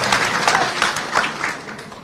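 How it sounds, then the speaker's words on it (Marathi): A crowd at a roadside farmers' protest rally for loan waivers breaks into brief applause, with a dense patter of many hands clapping at once. It is fairly close and fades slightly toward the end, with no talking over it. "एकदा टाळ्या आपण त्यांच्यासाठी वाजवल्या"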